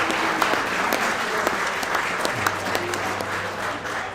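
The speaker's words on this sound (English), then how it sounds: "please give your West Genesee 2025-26 boys ice hockey team a round of applause once more" Sustained applause for the West Genesee boys ice hockey team, a dense steady clatter of many hands clapping in a room, loud and unbroken, with a low hum underneath.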